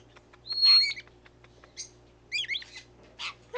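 A young pet bird kept indoors gives several short, high, squeaky calls in irregular bursts, a few separated by pauses, fairly close over a quiet low hum.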